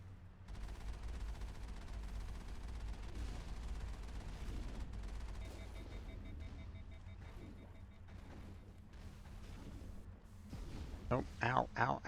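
Cannon fire during combat in the video game Mass Effect: rumbling, crackling blasts through a dense battle din, with sharper bursts near the end and someone talking over it.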